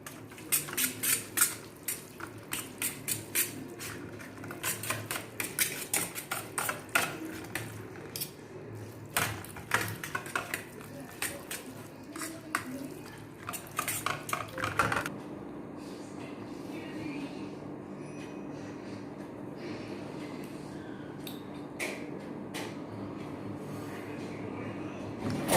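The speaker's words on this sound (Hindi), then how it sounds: "चलिए अभी कर्ड और मैगी को मिक्स करते हैं।" A spoon clinking and scraping in a dish while mixing curd into Maggi noodles, a rapid series of irregular metallic taps that stops halfway, leaving a quieter background.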